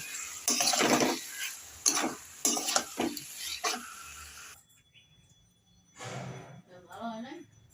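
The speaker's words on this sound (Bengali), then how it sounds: "এখন নাড়াচাড়া করবো" Dried lote fish curry stirred in a pan, with soft scraping and sizzling strokes in irregular bursts, then a pause and a quieter final stir.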